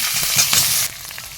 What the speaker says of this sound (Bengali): এখন আমরা কেটে নেওয়া কাঁচা টমেটোগুলো ভেজে নেব।